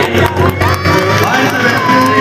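Cheering and shouting from a crowd at an Ambedkar Jayanti award ceremony, a steady loud mix of voices with scattered applause, close and continuous.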